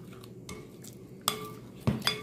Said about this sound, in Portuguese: Vamos mexer bem.